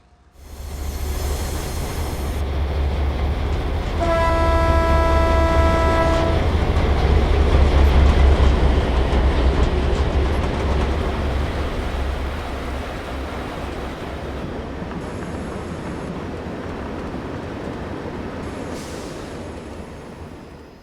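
An Australian-built NZR DA class diesel locomotive, built by Clyde Engineering in 1957, runs in Train Simulator with a steady deep engine rumble and rolling wheel noise, a long horn blast sounding early on.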